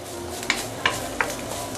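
Sweetened preserved radish (cai bao) stir-fried in a pan over medium heat, a soft sizzle with three light scraping stirs of the spatula at even intervals, quiet and close.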